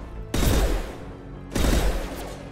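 Two sharp bursts of gunfire in the video game Mass Effect 2, each a quick rattling volley that decays, separated by a short pause.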